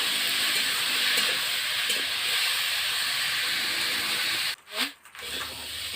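Mushrooms frying with salt in a pan give a steady close hiss and sizzle, and a brief stir or clatter breaks it near the end. A voice speaks faintly under the sizzle.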